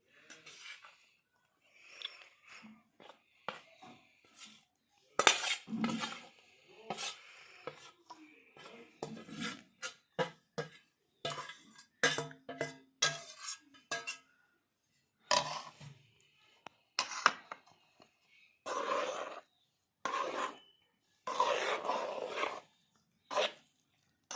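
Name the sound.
stirring gram flour mix into sugar syrup for laddu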